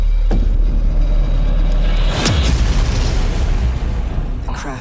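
A crash and explosion in a video game: heavy, booming low rumbles are broken by a few sharp bursts, loud and continuous, with a final burst near the end.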